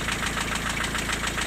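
A diesel engine runs with a fast, even knocking tapping through a steady mechanical hum, close and continuous with no speech.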